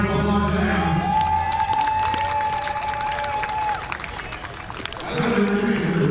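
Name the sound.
crowd applause for rhythmic gymnastics team at baseball game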